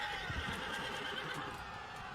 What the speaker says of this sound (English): Look at all these chariots.